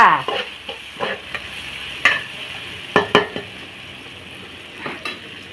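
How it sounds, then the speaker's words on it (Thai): Pounded chili and garlic stir-fried in a pan for a bean sprout, tofu and egg dish with minced pork: a steady sizzle with repeated scrapes and clinks of a utensil against the pan, close and alone, no talk. "ผัดจ้า"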